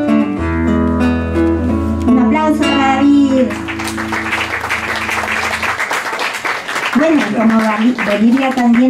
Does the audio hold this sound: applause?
yes